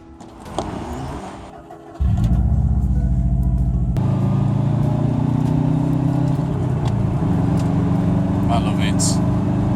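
A car drives along the road, its engine a steady loud drone heard from inside the cabin, starting after a brief quieter moment with a clunk.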